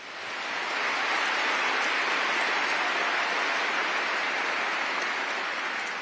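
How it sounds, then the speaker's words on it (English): An audience claps loudly and continuously at an Air Force Chief Master Sergeant change of responsibility ceremony, a dense wash of hands swelling in over the first second and holding steady, with no voices over it. "You all join me in a hand clap for them."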